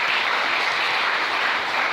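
Congregation applauding the Lord in a church, dense continuous clapping and cheering from many people, loud and steady throughout with no pauses.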